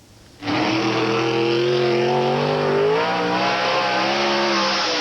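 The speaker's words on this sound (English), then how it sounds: "Every Saturday night, cars take to the track at the Tennessee Motor Speedway." Race cars roar around the track at Tennessee Motor Speedway on a Saturday night, a loud continuous engine drone that starts abruptly and holds steady, with pitch rising and falling as the cars accelerate.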